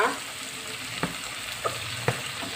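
Anchovies and papaya leaves are stirred in a pan with oyster sauce, giving a steady low sizzle broken by four sharp scrapes of the utensil at roughly half-second intervals, close and alone without talk.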